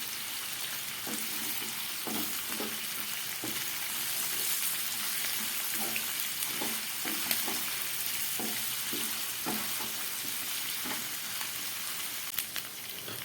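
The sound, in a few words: chicken frying in pan on medium heat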